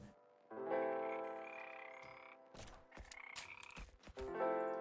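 Cartoonish frog croaks from a Godot-made video game, repeated in quick overlapping bursts against steady synth game music, bright and close.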